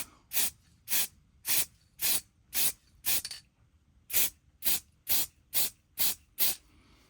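Primer is sprayed onto a Warhammer miniature in a rhythmic series of short aerosol hisses, about a dozen evenly spaced bursts with a brief pause midway, close and moderately loud with no talking.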